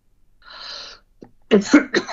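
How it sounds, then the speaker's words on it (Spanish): A man giving a spoken commentary on Spanish politics coughs. A short breathy rasp comes first, then a quick cluster of two or three sharp, close coughs. "Me están dando tos"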